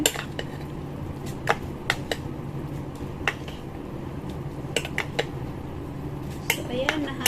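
Noodles being stirred in a mini cooking pot, with light metallic clinks and taps of utensil against the small pot scattered irregularly over a low background hum, quiet and close.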